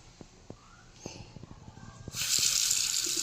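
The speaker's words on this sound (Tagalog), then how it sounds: "Malakas ang tubig." Shower water starts gushing strongly at about two seconds, a loud steady hiss of running spray after quieter handling noises and faint clicks.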